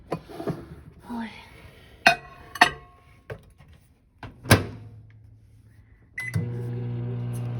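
Clinks of containers and a door thump come first, then a microwave oven starts heating food, its steady motor hum droning on close by after a few beeps, with someone talking briefly.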